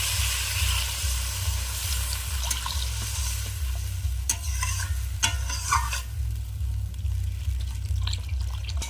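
Water poured over fried potatoes in a pan, with a low steady rumble and sizzle, sloshing and dripping, and a few sharp utensil knocks against the pan near the middle.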